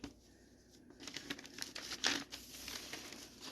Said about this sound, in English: This butcher paper don't want to lay flat up here.